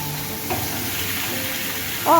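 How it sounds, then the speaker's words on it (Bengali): Amaranth stems stir-fried in a crowded kadai hiss with a steady close sizzle, broken by a few scraping stir strokes and a brief metallic squeak near the end. "আর এটা ভাজতে হবে ভালো করে, এটা নাড়তেই হবে"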